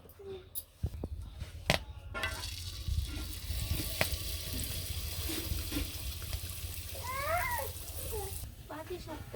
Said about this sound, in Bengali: এই পাশে তেলের পিঠে বাজাবো তেলের পিঠে গুলে নিছি কড়াইটা তেল গরম হয়ে গেছে আমি দিয়ে দিই